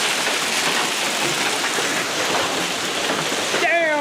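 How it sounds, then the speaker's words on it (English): Hail and rain pour down in a dense, steady roar of hard pellets pelting surfaces, loud and unbroken throughout, with a brief whistling tone at the very end. "we in the middle of a hailstorm"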